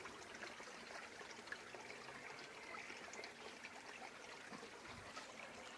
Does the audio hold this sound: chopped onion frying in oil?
no